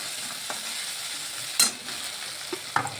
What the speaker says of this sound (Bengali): মশলাটা আদাটা লঙ্কাটা ভেজে নিচ্ছি যাতে করে কাঁচা গন্ধটা না থাকে